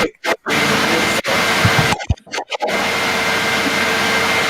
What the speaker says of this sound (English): Sounds like a vacuum cleaner.